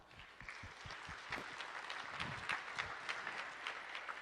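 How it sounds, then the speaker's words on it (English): Audience applause at a tech conference session, a moderately quiet, steady wash of clapping from a crowd, with a few sharper individual claps standing out. "So let's give them a round of applause."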